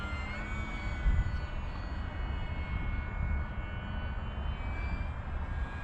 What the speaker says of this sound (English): I mean, it's a high wing STOL plane.